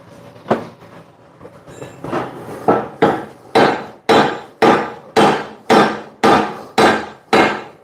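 A hammer strikes a weld bead on the eye of a Hino 500 truck's main leaf spring: a few lighter taps, then about ten loud, evenly spaced metallic blows in a steady rhythm.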